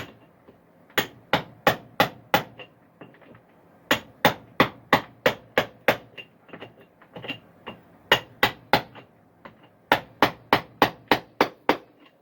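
Sharp metallic hammer blows land in quick bursts of four to six, with brief pauses between groups, loud and close with no talking.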